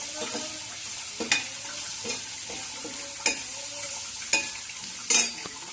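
Onions frying lightly in a pan, a steady sizzle with several sharp scrapes and clinks of a spoon stirring against the metal, close and fairly loud with no talking.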